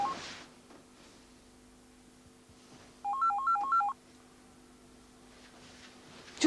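An old telephone rings in a 1984 French TV crime drama, one short burst of warbling electronic ringing in the middle of quiet room tone with a faint steady hum, no talk over it.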